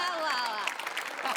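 Audience applause rises briefly on a comedy stage show, dense clapping with voices mixed in over it.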